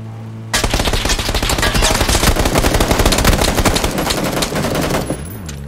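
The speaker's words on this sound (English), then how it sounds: "there's shots in this compound" Heavy gunfire bursts through a compound in the video game PUBG, rapid automatic shots rattling loudly and continuously for several seconds after a quiet start, with no talking.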